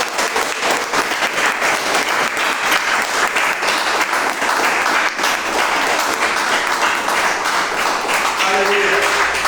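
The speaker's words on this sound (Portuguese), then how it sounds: "Pode aplaudir o Senhor quando ele." A church congregation applauds in a dense, steady roar of clapping that fills the whole stretch, loud and close, with a voice briefly rising over it near the end.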